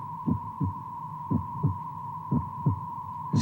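Drum-like heartbeat throbbing near a mysterious pylon, in pairs of thumps repeating about once a second over a steady electronic hum, loud and alone.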